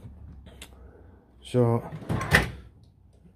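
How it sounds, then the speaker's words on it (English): A drawer on a Halfords advanced tool chest slides and fails to seat properly, giving a short scraping slide and a sharp knock, close by, with someone speaking briefly around it. "this drawer, sometimes it just don't seat right, and I find it happens with quite a few of these drawers"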